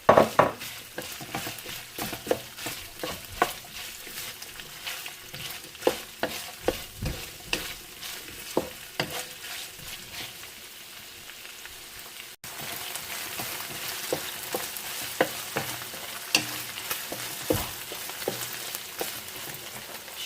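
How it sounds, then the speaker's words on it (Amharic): Onions frying in a pan together with beef for an Ethiopian beef and vegetable stir fry, a steady close sizzle punctuated by repeated sharp scrapes and clacks of stirring over about twenty seconds, with no voices. "ከዛም ሽንኩርቱን ጨምረን ከሽንኩርቱ ጋር ደግሞ እናበስለዋለን።"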